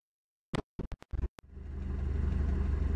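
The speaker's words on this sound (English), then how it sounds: "I keep on forgetting to turn the engine noise down." Racing-game car engine in Assetto Corsa starting up after a few sharp clicks and taps, then building into a steady, rising droning hum that continues to the end.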